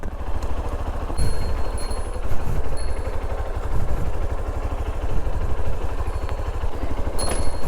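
A motorcycle engine idles close by with a steady, throbbing mid-pitched rumble and light mechanical clatter, holding continuously before the bike is parked on a road near a waterfall in Uttara Kannada.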